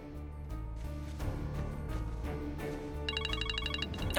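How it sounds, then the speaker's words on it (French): A telephone rings with a bright, repeating electronic ringtone that starts near the end, faint under a soft music bed, with no talk. "Ah, c'est mon téléphone."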